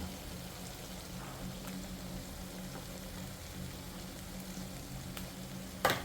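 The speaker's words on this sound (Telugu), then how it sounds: "ఇప్పుడు ఈ జింజర్ గార్లిక్ పేస్ట్ అనేది పచ్చివాసన పోయేంత వరకు వేయించుకోవాలి" Ginger garlic paste for chicken biryani fries in a pan with a soft, even sizzle that holds steady and faint throughout, ending in one brief clatter, with no voices.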